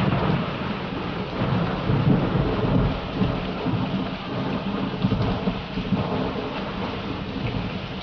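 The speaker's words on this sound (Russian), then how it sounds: "О чем напоминает вам звон хрустальных капель дождя?" Steady rain falling with deep rolling thunder rumbling underneath, played as accompaniment for a modern ballet dance piece on a stage; continuous and fairly loud throughout.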